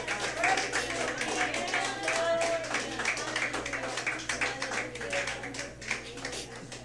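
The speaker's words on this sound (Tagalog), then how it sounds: "Sige po, palakpak ka na sa Panginoon" A church congregation claps for the Lord during worship, rhythmic, fairly close hand clapping from many people with voices mingled in, steady through to the end.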